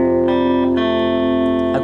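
Several electric guitar notes from a riff ring together as one sustained chord, added one by one with distorted, effects-laden tone and reverb, loud and steady with no voice.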